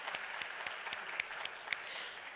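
Forum audience at Expo 2020 Dubai claps at a steady, rhythmic pace, a faint, distant patter of applause with no voices.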